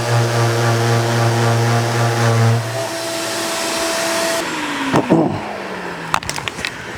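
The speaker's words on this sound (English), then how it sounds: "don't run the vacuum cleaner for too long. It will overheat" A vacuum cleaner runs with a steady, loud motor drone for about two and a half seconds, then winds down in pitch and fades, leaving low background noise with a few brief knocks and clicks near the end.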